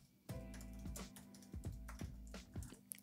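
Computer keyboard typing, a run of quick soft key clicks in an uneven rhythm lasting a few seconds, heard close and faint.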